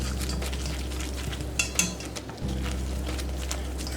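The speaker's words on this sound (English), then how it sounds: "Whisk the rest of this in here" A spoon stirs and scrapes through turkey gravy in a pan, making soft clinking and scraping strokes close up. A low steady hum runs underneath, with a brief pause near the end.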